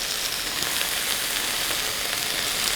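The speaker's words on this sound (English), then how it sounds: "While the pan's still hot, I can just sear those edges." Steak edges searing in a hot pan, a bright, steady sizzle that hisses evenly and close without pause, with no voices over it.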